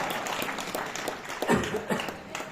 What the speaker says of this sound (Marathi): एकदा तुम्ही सगळ्यांसाठी स्वतःसाठी एकदा टाळ्या वाजवा